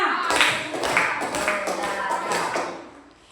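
A class of schoolchildren claps together in a counted clapping game, a run of roughly five to six rapid group claps that blur together, fairly loud and close, tapering off at the end.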